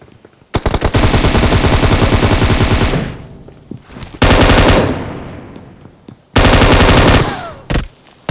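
Automatic weapons fire in a shooting video game, heard as three long, loud bursts of rapid shots separated by short pauses, with a couple of brief extra pops near the end.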